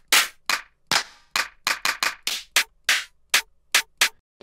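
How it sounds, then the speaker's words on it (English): A weird, experimental clap sample for a dubstep track, fired about a dozen times in an uneven sequence of sharp, dry, crackly hits separated by silence, close and loud with no voices. "This is definitely one of those unique claps that I haven't really heard yet before."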